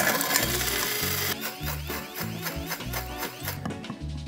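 A kitchen appliance grinds a mix of chocolate types with a loud, whirring mechanical drone that settles into a rhythmic, pulsing churn as the pieces break down.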